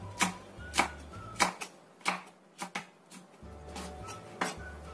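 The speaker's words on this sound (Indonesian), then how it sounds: "Terus 2 cabai merah besar. Ini kita potong bulat aja." A knife chops large red chilies into rounds on a cutting board, with about ten crisp, close knocks in an uneven rhythm and quiet pauses between.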